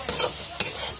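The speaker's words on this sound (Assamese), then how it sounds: "প্ৰথমতে মই অকণমান ভাজি ল'ম মাংসখিনিৰ লগত।" Pork pieces fry in a pan for a Mising-style pork dish, a soft sizzle broken by two sharp stirring scrapes of a spatula, close and with no voices.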